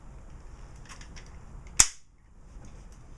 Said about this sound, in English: we will do a dry fire test